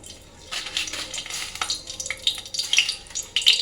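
Dried red chillies frying in mustard oil in a washed kadai give a crackling, spitting sizzle that grows busier and louder, with sharp pops near the end.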